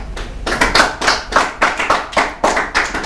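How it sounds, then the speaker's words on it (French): Audience clapping at a student event, a run of loud, uneven bursts of hand claps swelling and fading in quick waves, close and without talk. "Je pensais qu'on allait applaudir."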